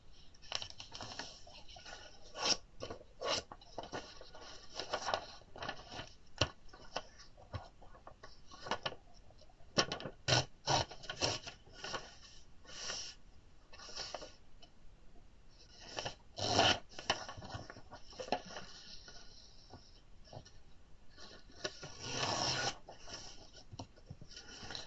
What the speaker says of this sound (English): I'm going to just get a plain sheet of white paper from the printer.